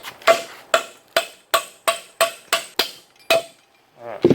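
A hammer strikes metal about nine times in a steady, ringing rhythm, knocking a bearing out of a 1966 Ford Bronco Dana 20 transfer case on a socket, loud and close, then a short pause and one final clank.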